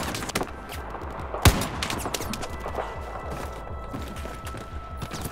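Battlefield 4 campaign gunfire on Kunlun Mountain: rapid, rhythmic bursts of automatic shots rattle continuously, punctuated by one sharp, loud blast near the middle and a heavy crack at the end.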